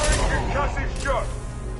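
Concussive shot ability firing in Mass Effect 2: a loud, short burst of punchy blasts and crackling impacts, with game voices heard around it.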